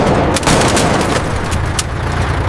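Dense battlefield gunfire in a war film, loud and continuous with rapid overlapping bursts and booming reports, heard alone without voices.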